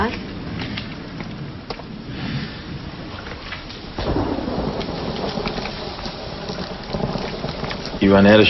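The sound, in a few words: thunderstorm with thunder and rain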